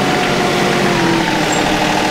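A heavy tractor engine drones steadily and loudly throughout, bearing down while its loader works thick, heavy dirt, a constant low labouring rumble with no voices.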